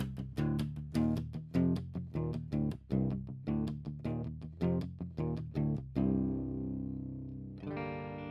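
A clean electric guitar, a modified Ibanez AF55 in drop C, plays a rhythmic riff of chords, then rings out into a sustained decaying chord before a final bright strum.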